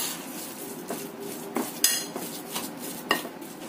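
A metal utensil scrapes and clinks against a pan while a garlic and seasoning mixture is stirred, with several distinct sharp taps over a soft frying hiss.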